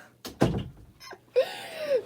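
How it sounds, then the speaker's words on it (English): Indoor door being shut at home, a couple of quick knocks and thuds followed by a short squeaking slide, moderately near with quiet gaps between the sounds. "Mom's going to shut the door."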